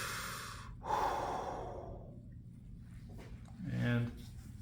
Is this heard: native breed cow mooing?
no